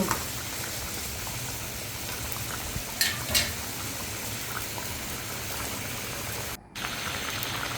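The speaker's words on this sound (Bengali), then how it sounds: "আমি মাছগুলো আবারও নাড়াচাড়া করে দিচ্ছি" Koi fish curry bubbles and simmers steadily in a cooking pot, with a couple of brief scraping clinks from stirring around the middle and a short break near the end.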